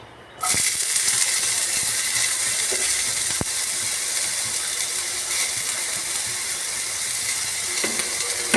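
Chopped potatoes sizzle in a pan over a high gas flame, a loud, steady hiss that begins abruptly and continues without pause, broken by a few faint clicks and scrapes.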